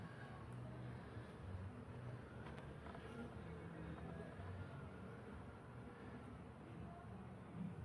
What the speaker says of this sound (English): there was a queen and maybe a handful of bees, and they seem to be doing all right